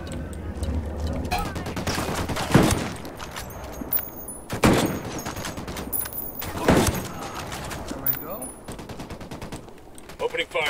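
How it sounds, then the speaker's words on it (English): Bursts of automatic gunfire in Ghost Recon Wildlands, with loud, sharp volleys clustered at a few moments between quieter gaps, close and punchy, some voices speaking faintly under the shots. "There we go. Opening fire."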